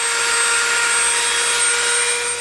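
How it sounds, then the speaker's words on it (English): A Dremel rotary tool rounds the edge of an EVA foam piece, a steady high-pitched whine that stays loud and close without a break. "We made a nice round corner right here with the Dremel."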